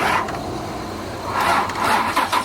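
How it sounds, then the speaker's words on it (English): A car that has just been jump-started on a cold day, with its engine catching and running in a steady mid-pitched drone that briefly swells louder partway through, close and without talk. "Jumped the car for the second time."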